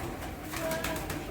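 Pigeons of many colours, golden among them, give a few soft coos close by over a low, busy background.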